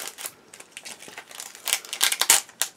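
A resealable plastic bag holding decals from a Meng 1/35 Mk.A Whippet model kit is handled up close, giving a run of quick crinkles and crisp clicks that grow louder and busier toward the end.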